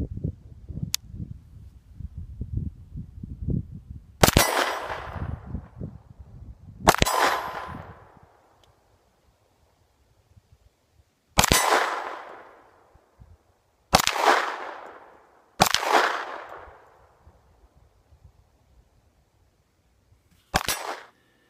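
Sig Sauer P220 10mm pistol fired at an outdoor range: six loud, sharp reports spaced several seconds apart, each ringing out and fading, with quieter handling noise before the first shot.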